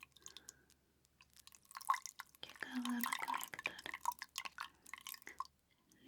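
Rose petal water dripping and splashing as a face is rinsed during a close-up personal-care session, with soft wet drips and squishes under quiet whispered speech.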